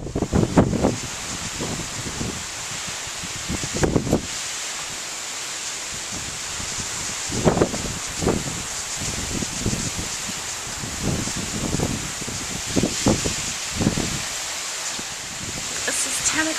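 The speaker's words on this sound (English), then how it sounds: "It's a little windy," Morning wind blows steadily with a light patter of rain during Hurricane Irene, a constant rushing hiss with gusts buffeting the microphone, while a person talks over it.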